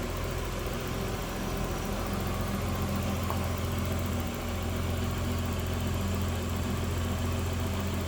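A 1986 Nissan 300ZX T-Top sits idling, its engine holding a smooth, even hum with a steady low drone that stays constant and close throughout, no voices over it.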